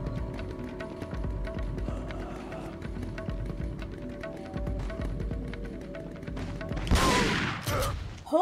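Gunshots in Resident Evil 4: Separate Ways: a run of fairly soft, repeated shots over a low, steady game background, ending with a louder burst near the end.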